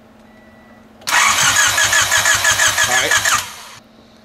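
A Honda car engine cranks without firing, a loud rhythmic starter churn lasting about two and a half seconds before cutting off, with a brief spoken remark afterward.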